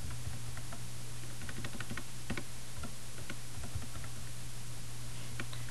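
Keys on a computer keyboard tap in quick irregular runs at a low level, close by. A steady electrical hum runs underneath. No one speaks.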